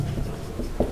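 A brief scratch of writing on a board during a class 12 three-dimensional geometry lesson, faint and close, with a few quick strokes and a light tap near the end.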